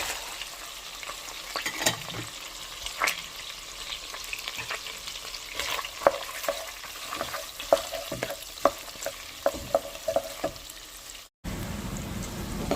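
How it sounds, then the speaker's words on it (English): Garlic and onions fry in a pan for a green banana and prawn curry, a soft continuous sizzle broken by scraping stirs and small crackles, close and fairly quiet. "they get fried a bit, I'll add onions and garlic"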